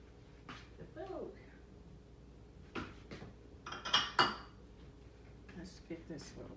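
A small bowl and other dishes handled in a home kitchen, several light clinks and clatters scattered through a quiet room, louder knocks near the middle, with someone talking intermittently.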